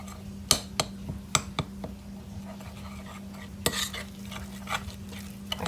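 A spoon stirs green beans with grated Parmesan cheese in a bowl, several sharp clinks and scraping knocks against the dish at an uneven pace, close up, with a steady low hum underneath.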